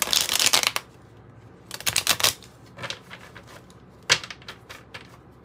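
Oracle cards get shuffled in quick, crisp riffling bursts, a loud flurry at first, then more bursts with short pauses between, up close in a quiet room.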